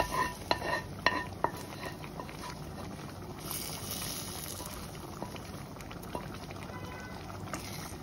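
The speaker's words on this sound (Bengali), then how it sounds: "পেঁয়াজটাকে মিশিয়ে দিয়েছি ডালের সাথে" A spoon clinks and scrapes against a pot while browned onion and garlic are stirred into dal for a radish dish, with a few sharp metallic knocks early on, then a soft steady simmer and light stirring.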